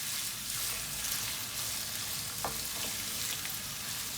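Onions fry in a pan with a steady, fairly loud sizzle, and a spoon or spatula scrapes through them every so often as they are stirred, with no voices.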